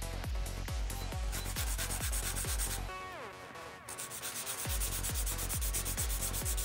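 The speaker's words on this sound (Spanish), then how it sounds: "y ahora hacemos un limado envolvente alrededor de toda la uña" A nail file rubs in steady, rhythmic strokes as it shapes and buffs around the edge of a fingernail during a manicure. The strokes repeat evenly throughout and stay fairly loud, with a brief softer stretch in the middle.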